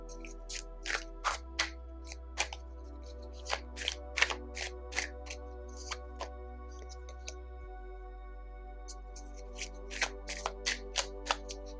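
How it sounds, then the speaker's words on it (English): A Star Child Tarot deck being shuffled by hand, heard as close, crisp bursts of riffling and card slaps in irregular clusters with quiet pauses between, no talk. "I also have the Star Child Tarot deck with me today, so I am going to shuffle these"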